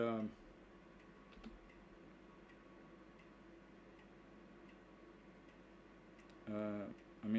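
Typing on a computer keyboard while writing code: faint, steady key clicking runs under a low hum, and brief talk is heard at the start and the end.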